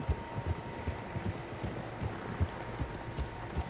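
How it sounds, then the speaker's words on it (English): Horses' hooves thud in Red Dead Redemption 2, a steady, faint clip-clop of several horses moving at an easy pace over a low ambient bed. "Horses, quite a few of them."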